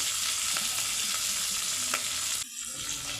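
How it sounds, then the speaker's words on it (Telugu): Vegetables and mint are stirred and fried in a pan for vegetable rice: a loud, continuous sizzle with occasional spoon scrapes, easing to a quieter hiss for the last second. "బాగా కొంచెం కలుపుతున్నాను కొద్దిగా ఎర్రగా వేయాలి"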